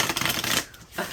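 Tarot cards of the Neo Tarot deck being shuffled by hand, a dense papery riffle and flutter for most of a second, then a brief pause and a softer shuffle, close up with no talking.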